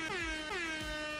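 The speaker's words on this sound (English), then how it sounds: "Where's my air horn at?" An air horn sound effect blasts twice in quick succession, each loud, harmonic-rich honk starting with a slight downward pitch bend and holding steady, with no talking over it.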